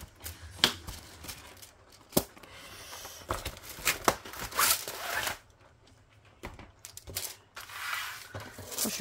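A diamond painting kit package being opened by hand, with a series of sharp crinkling, tearing and snipping sounds coming close and loud in irregular bursts, and no talking.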